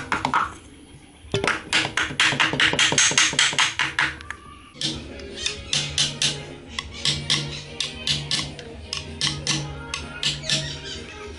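An oil seal is hammered into the flywheel housing of a Volkswagen Beetle engine, with rapid, close metallic taps in quick bursts that continue in uneven runs with brief pauses between them.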